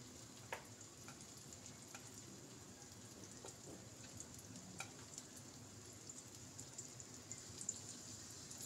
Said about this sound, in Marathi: तांदूळ आणि रव्याच्या पीठमध्ये टाकलं तर खरपूस कुरकुरीत होतात फिश फ्राय आणि टेस्टी लागतात.